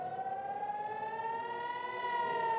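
An air raid siren wails steadily during a rocket attack on Nahariya, Israel, a single sustained tone slowly rising in pitch, loud and unbroken with no voices.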